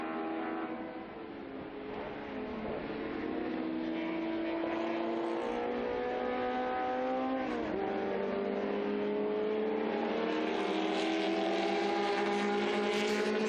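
Historic 2-litre sports racing cars, a blue Cheetah and a Lola, at the Estoril circuit, their engines a loud, continuous high-revving whine that shifts pitch as they chase each other, with a brief drop and climb midway.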